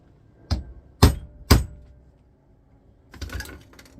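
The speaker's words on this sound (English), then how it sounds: "Just need to give it a little tap on the side and the bottom plate will come off." Three sharp taps knock against the housing of a synchronous motor from a stone polisher control unit to free its bottom plate, evenly spaced about half a second apart, followed by a brief rattling clatter as the plate loosens.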